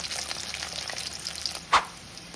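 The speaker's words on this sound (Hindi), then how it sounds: "इसे हम घी में डालेंगे, आग को तेज करेंगे और आलू को हल्का लाल होने देंगे।" Halved boiled potatoes fry in ghee over high heat, a continuous bright sizzle with light stirring and one sharp clatter near the end.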